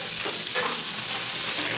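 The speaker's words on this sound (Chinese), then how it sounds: "加入八角、桂皮、辣酱少许，炒出红油" Star anise, cinnamon bark and a little chili sauce sizzle and crackle in hot oil in a wok as they are stir-fried for braised spare ribs, a dense, close, continuous frying hiss.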